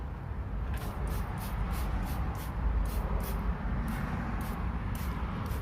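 An aerosol spray can sprays paint onto an interior surface in about a dozen short, evenly spaced bursts of hiss, moderately close, over a steady low background rumble.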